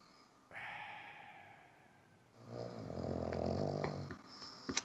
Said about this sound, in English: Someone snoring.